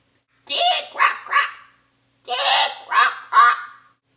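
Red-crowned parrot calls, two loud bursts of three harsh, raspy squawks each, separated by a short pause, close and clear with no other sound.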